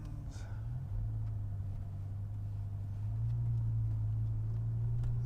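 A BMW E60 M5 climbs a hill in third gear with a steady, droning engine note that rises slightly in pitch partway through, heard from inside the car.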